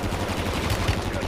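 Rapid gunfire rings out in a Warzone firefight, with dense, overlapping shots crowding one another in a loud, continuous burst close at hand.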